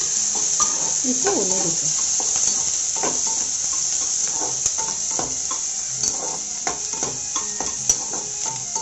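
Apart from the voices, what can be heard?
chopped onion and green chilies sizzling while being stirred in pan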